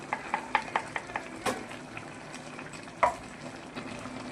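Ground coconut masala stirred in a frying pan with turmeric, giving soft scraping strokes and small clinks of a spoon against the pan in a loose rhythm over a faint sizzle, close and quiet, with no voices.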